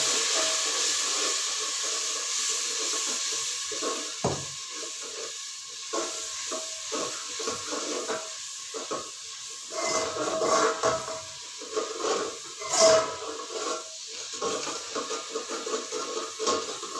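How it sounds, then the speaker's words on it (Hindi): Mixed vegetables and chillies fry in a pan, giving a steady close hiss and sizzle that gradually eases, with occasional stirring scrapes and crackles. "करके इसको भून लें ताकि मिर्च जले ना।"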